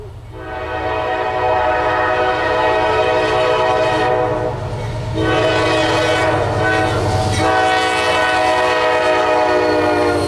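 A freight train led by a single locomotive passes close by in Ohio, its horn sounding loud and sustained in long blasts over the rumble and clatter of the cars.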